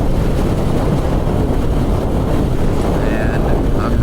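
A motorcycle rides over wet concrete after rain, and steady, loud wind roar buffets the microphone throughout with a low rumble underneath.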